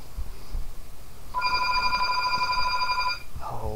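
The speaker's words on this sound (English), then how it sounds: "Oh my god, this phone will not shut up." An indoor telephone rings with a sustained electronic tone for about two seconds over quiet room background, then cuts off.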